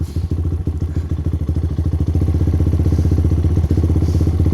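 A Lifan KP Mini 300 motorcycle engine with an upgraded carburetor idles close by in a loud, steady thumping rhythm that smooths out slightly partway through.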